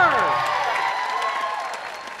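An audience claps and cheers at a high school choir pop show, a broad wash of applause that fades gradually over about two seconds, mixed with whoops and crowd noise.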